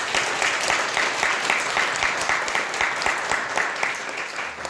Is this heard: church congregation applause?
yes